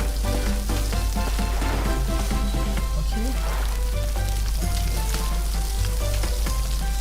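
Meat roasts over a campfire in the survival game Stranded Deep, a continuous crackling sizzle under tonal background music and a steady low hum.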